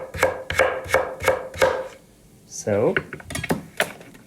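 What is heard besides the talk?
chopping vegetables with a knife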